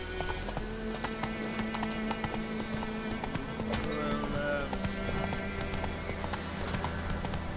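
A horse galloping in The Witcher 3: Wild Hunt on PS4 Pro, rapid steady hoofbeats pounding throughout over a faint game soundscape.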